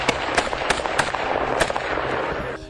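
Gunfire erupts in a shootout with Dorner at mountain cabins, a rapid scatter of sharp cracking shots over a busy, noisy backdrop, with no voices.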